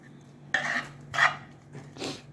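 Utensil scraping and clinking against a dish while mixing crushed egg-yolk filling with mushrooms, three short separate strokes, close and fairly quiet.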